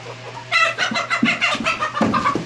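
Chickens in a coop, with window fans blowing in, cluck and squawk close by in a series of short, irregular calls over a low steady fan hum.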